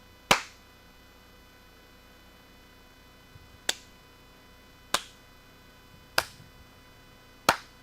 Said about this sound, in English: Clap seems good.